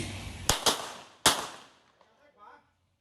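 Handgun shots fired at a target during shooting practice, two quick sharp reports followed by a third, close and loud, with a faint clink and rattle trailing after.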